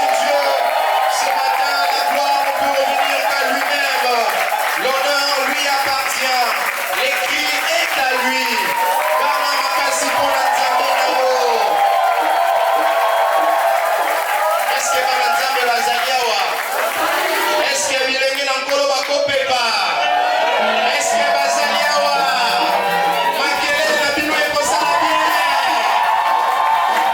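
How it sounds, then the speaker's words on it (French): A church congregation at a youth celebration day cheers, whoops and shouts with joy, a loud, dense crowd roar that stays steady throughout, with scattered applause mixed in. "s'il est possible, poussez les cris de joie. Faites du bruit pour ce Dieu."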